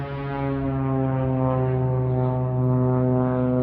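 A small propeller plane drones steadily overhead while doing takeoffs and landings near an airport, a sustained buzzing hum with no talk.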